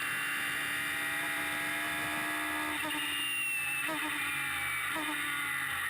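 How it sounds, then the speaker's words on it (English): Onboard a Radical race car at Castle Combe, the engine drones steadily and shifts through the gears, with brief rises and dips through the right-hander at Tower Corner, heard from inside the cockpit under a continuous hum. "You can hear him heading through the gears as he makes his way through the right-hander at Tower Corner"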